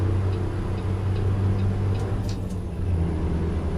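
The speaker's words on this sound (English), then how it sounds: "Getting passed by Kenworth." A Kenworth truck passes by in American Truck Simulator, a steady loud low engine rumble and drone filling the whole stretch with no talk.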